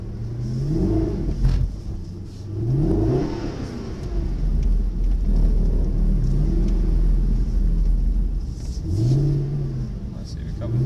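A Mercedes SLS AMG drifts with its engine revving in repeated rising and falling surges, loud and close, over a constant rumble, while people talk in the cabin.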